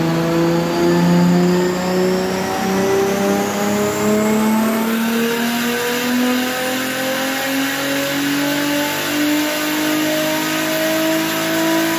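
A Toyota Cressida engine revs hard on a dyno, rising steadily in pitch through a long pull with a brief shift-like break midway, loud and close with no talking.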